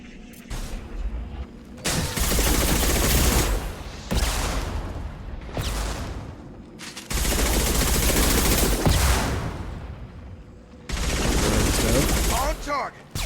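Gunfire from the video game Mass Effect, loud sustained automatic bursts in long stretches separated by brief pauses, dense and close, with a voice faintly underneath.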